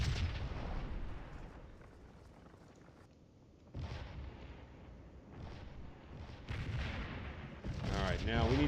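Artillery battery firing in the Scourge of War video game, with booming cannon shots and battle rumble rising and falling through the clip.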